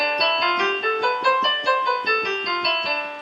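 A single-note Dorian mode scale is played evenly up and back down, each note plucked cleanly at a steady pace, bright and close.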